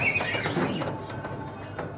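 Pigeons in a bird and aquarium fish shop call with soft, low cooing and a few brief chirps, fairly close. The calls fade over a couple of seconds against a steady background murmur.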